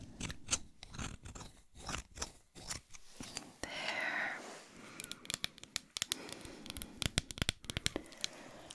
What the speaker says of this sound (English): I'm going to have to use my other scissors